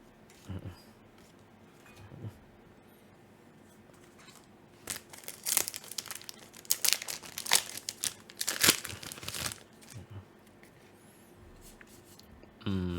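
A Yu-Gi-Oh card pack's foil wrapper is opened by hand, with crinkling and tearing close up that builds into a burst of sharp crackles before easing off, with some quiet talk.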